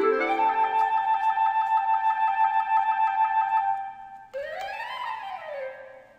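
Virtual orchestra passage from the EWQLSO Play edition: a sustained trill holds for several seconds, then a lower, quieter release note swells and fades out.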